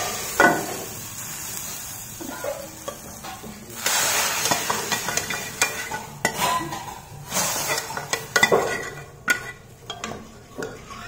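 Onion sizzling in a pan for a tempering (tadka) for urad dal in a village kitchen, a steady hiss with scraping and stirring clatter of utensils, close and continuous.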